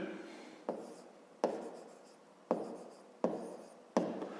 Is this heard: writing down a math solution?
yes